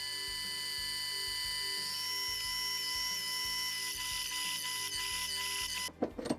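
A mini lathe drills into the side of a metal block, giving a steady, close mechanical whine with a faint rhythmic chatter, ending in a brief louder burst of handling noise.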